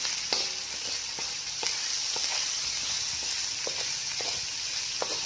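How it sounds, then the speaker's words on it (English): Chopped sweet baby corn and other vegetables sizzle softly in a pan while a utensil stirs them, with a constant low frying hiss punctuated by several distinct clinks and scrapes spaced irregularly. "And now I'm going to stir it."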